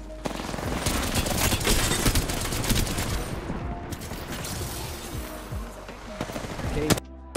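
Sustained video-game gunfire crackles nonstop for several seconds, dense rapid bursts of automatic shots layered into a continuous fusillade, loud and close, with a brief pause near the end.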